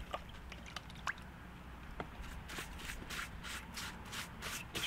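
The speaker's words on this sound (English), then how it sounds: "Just paint it on the nest." A brush paints a water and sodium bicarbonate solution onto a hornet nest, making quiet, steady swishing strokes in a quick rhythm with no talk.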